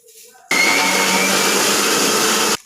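A mixer grinder blends watermelon juice with sugar in a loud, steady whirring burst of about two seconds that starts and stops abruptly, after faint background sound.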